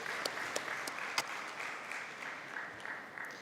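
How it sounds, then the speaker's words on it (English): An audience at a city summit claps in steady, even applause, fairly close and dense, with a few sharper individual claps standing out. "Can we have a round of applause?"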